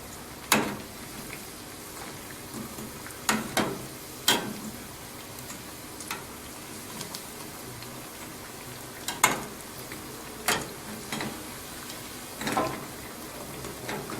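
Polenta potato patties fry in hot ghee, giving soft, irregular sharp pops and crackles spaced a second or two apart over a low steady background.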